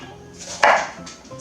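A single knife stroke chopping through lined-up cucumbers lands as one crisp, close cut with a brief burst of crunch, set against a quiet kitchen background.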